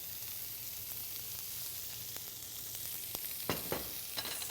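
Steak searing in a hot pan with olive oil, a soft steady sizzle with a few sharper pops and crackles near the end, close and without talking.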